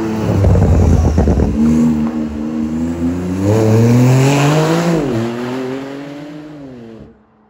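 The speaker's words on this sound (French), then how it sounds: "Il y a la Turbo S qui va arriver, je pense que vous l'entendez déjà." A Porsche 991.2 Turbo S sports car roars past at full acceleration, its engine note climbing through several rising gear pulls, loud and close before fading quickly into silence at the end.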